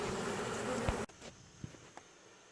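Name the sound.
bees buzzing around a hive box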